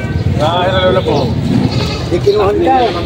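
Goats bleat in wavering, quavering calls, loud and close, mixed with people talking over them.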